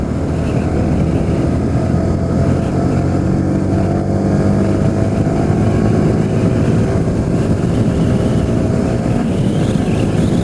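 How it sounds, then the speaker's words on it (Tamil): A Yamaha R15 V3 motorcycle engine running on Liqui Moly oil hums close and loud, with a smooth, steady drone under light revving and no pauses. "ஸோ இப்போ வந்து லைட்டாக ரெவ் பண்ணி பார்க்கலாம்."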